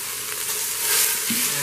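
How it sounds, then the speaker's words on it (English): Ground beef for hamburger stroganoff sizzles and fries loudly in a pot sprayed with non-stick spray, giving a steady, close, hissing crackle with no talking. "now I'm going to throw the hamburger in,"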